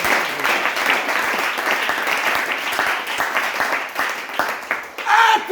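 A church congregation applauds the Lord together, a dense, steady wash of many hands clapping that carries on for several seconds and briefly swells near the end, with some voices mixed in.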